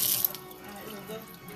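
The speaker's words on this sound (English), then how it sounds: "Now I got to wash my hands again" Hands being washed under a running kitchen sink tap, a short, steady splash of water close by with a brief sharper spatter at the start.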